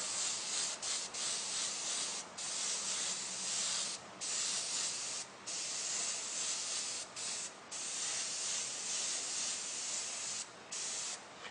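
Spray paint fogged lightly over a stencil: a continuous hissing aerosol spray broken by brief pauses between repeated bursts, close and fairly soft, with no talking.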